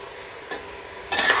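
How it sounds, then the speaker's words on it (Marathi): Potatoes, peanuts and green peas being sautéed for masala khichdi give a soft, steady sizzle, broken by two louder scraping stirs, one brief and one longer near the end. "चांगलं परतून घेऊ।"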